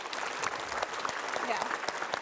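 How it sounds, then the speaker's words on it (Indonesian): Studio audience applause on a television talk show, a dense, continuous clatter of many hands at moderate level with a few louder claps and faint voices mixed in. "Kita kasih tepuk tangan dulu untuk Safa."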